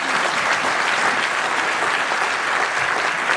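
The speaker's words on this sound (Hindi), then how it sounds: "जोरदार ताली बजाकर इनका स्वागत करें" Loud, dense applause fills a hall in the Bihar assembly as the crowd welcomes a guest on his 89th birthday, a continuous wash of many clapping hands, steady and close throughout.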